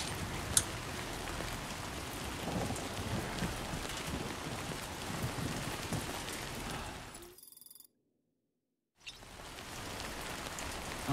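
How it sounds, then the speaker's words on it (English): Steady rain pours down in a video game, Death Stranding 2, as a dense, even hiss of drops with no voices, cutting to brief silence near the end before resuming. "I don't think this rain's gonna stop."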